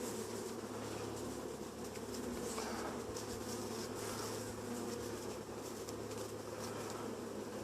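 Honey bees buzz steadily around an open hive during an inspection, a dense, continuous drone of many wings close by, with no talk.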